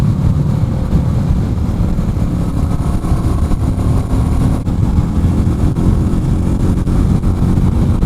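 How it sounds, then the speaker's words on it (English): A Royal Enfield Meteor 350 motorcycle held at full throttle while labouring up a hill, a steady, loud, strained engine drone with constant wind noise and no clear change in pitch. "I'm pinning it right now, and we're really struggling to get up this hill."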